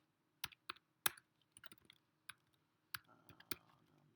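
Numbers are tapped out on a computer keyboard in scattered, irregular keystrokes, some single and some in quick pairs, close and clear against near silence.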